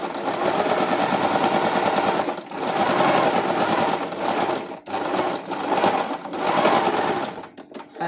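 A sewing machine runs in steady bursts while stitching a French seam, loud and close, with a few short pauses between the runs.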